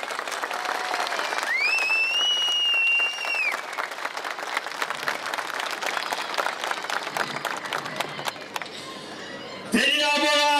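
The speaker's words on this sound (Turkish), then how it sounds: "Bir alkış istiyorum." A crowd at an outdoor political rally in Yazıhan, Malatya, applauds with dense, continuous clapping, while voices, whistles and shouts rise over it and a loud burst of cheering swells at the end.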